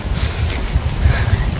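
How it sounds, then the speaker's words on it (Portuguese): Wind blowing outdoors at a zoo-like park, a loud buffeting rumble against the microphone that gusts unevenly throughout. "o vento aqui"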